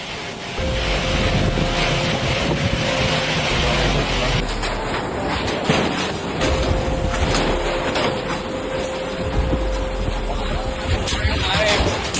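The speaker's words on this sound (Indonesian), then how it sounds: "Hujan deras disertai angin kencang menumbangkan pohon" A violent storm of heavy rain and strong wind sweeps across Madura, East Java, as a constant dense roar and rush of gusts with a voice talking over it.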